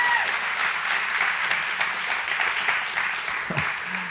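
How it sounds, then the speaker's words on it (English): A church congregation applauds steadily and fairly loudly throughout, a dense wash of clapping from many hands with a few scattered voices mixed in. "Would y'all give them a big hand right now as they're watching?"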